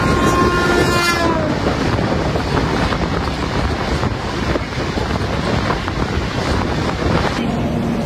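The 12377 Padatik Express, a night train from Sealdah to New Jalpaiguri, rumbles steadily along the rails with constant wheel and carriage noise and a wind-like rush, a brief horn-like tone sounding near the start.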